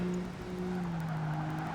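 Car tires squeal in a long, steady skid through a twisty corner in Project Gotham Racing 2, a sustained tonal whine over engine drone with no pauses.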